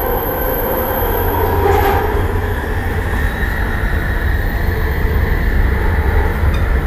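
A light rail train rolls along with a steady, heavy rumble and rattling wheel noise, loud and continuous, with a brief metallic squeal partway through.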